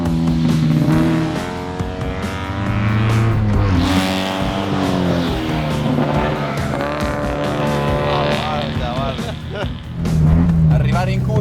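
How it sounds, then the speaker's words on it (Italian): A Fiat 500 with an 800 cc engine and sequential gearbox races around a kart track, its engine revving hard up and down through the gears with tire squeal, close and loud, while someone talks over it. "Frena, sterza, accelera e sovrasterza come una macchina da corsa."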